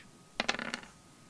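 Dice rolled for a tabletop roleplaying game clatter briefly, a quick burst of several hard rattling clicks that fades within half a second, close and quiet with no talk over it.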